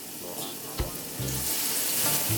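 Eggplants frying in coconut oil in a pot give a steady close sizzle, with a brief clatter as they are moved and a few low bubbling pops.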